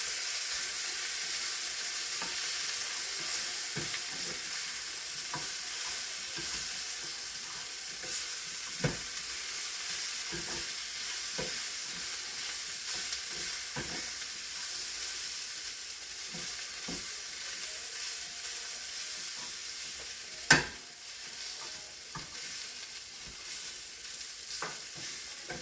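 Onions sizzle and fry in a pan, giving a constant close crackle. Scattered clicks and scrapes come from stirring, with one sharper clatter late on and no talk.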